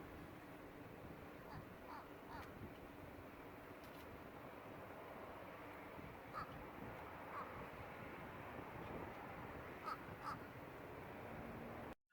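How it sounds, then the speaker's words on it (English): Hoarse, sore-throated crow caws ring out a few times at a distance over a steady wash of wind and surf. "he sounds like he's got a sore throat, like a crow with a sore throat"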